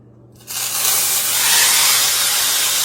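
Beef roast laid into hot grease, bursting into a loud, sustained hiss of searing after a brief quiet start, close and continuous with no voices.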